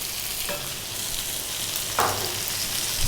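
Chopped tomatoes fry and sizzle in a pan for a shrimp curry, a steady loud hiss broken by a couple of stirring scrapes, with no talk.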